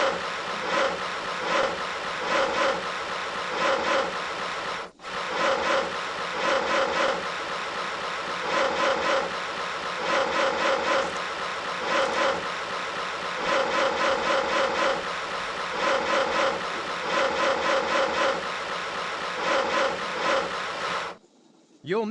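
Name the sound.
sawing wood sound effect in Tonka Workshop video game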